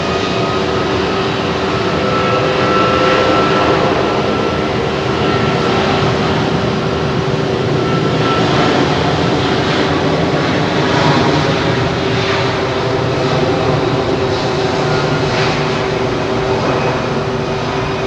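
A fixed-wing airplane at Miami airport gives off a constant broad roar with a steady whine, loud and unbroken throughout, no voices over it.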